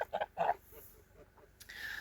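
Domestic geese honk in a few short, loud bursts close by, followed by softer scattered calls and a brief higher squawk near the end.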